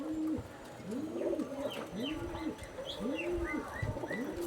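Pigeons coo in a steady series of rounded, rolling calls close by, repeating about once a second, with faint higher chirps and twitters from other birds scattered over the top.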